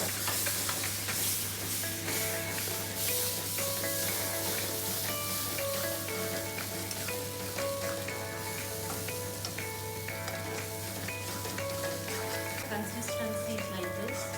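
Masala with tomato sizzles in a pan as it is stirred, a continuous hiss under background music with tonal notes, steady and moderately close.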